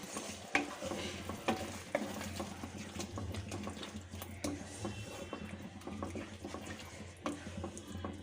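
Spoon stirring sour yogurt into mutton curry in a pan on a low gas flame, soft scraping and wet squelching with a quiet simmering sizzle underneath, close and faint.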